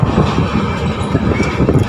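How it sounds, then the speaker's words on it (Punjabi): Steady rumbling of a train moving along rails, with continuous low mechanical clatter and a faint metallic squeal, close and fairly loud throughout. "ਆਹ ਗੱਡੀ ਟ੍ਰੇਨ ਖੜੀ ਆ ਇੱਥੇ ਲੋਕੋ"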